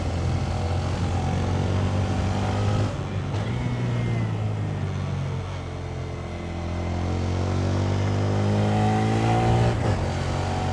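A Honda Grom motorcycle engine drones steadily through a ride, its small single-cylinder tone rising and falling with throttle changes, with wind rush throughout and no talk.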